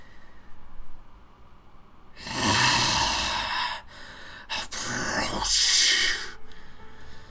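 A tabletop game master imitates a monster's deep breathing during a dragon-themed roleplaying session, giving slow, heavy, breathy exhalations with a hissing edge, close to the microphone in two or three long swells.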